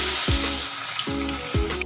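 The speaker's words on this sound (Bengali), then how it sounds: "ওই তেলে আমি দিয়ে দিচ্ছি কেটে রাখা বেগুন" Cut eggplant fries in hot oil left over from frying fish, a dense, close, continuous sizzle and crackle with low thumps and stirring movements.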